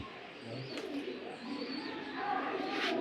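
Racing pigeons, a top-quality grizzle pair from a racing club loft, coo softly and repeatedly against low background noise, with faint bird chirps near the end.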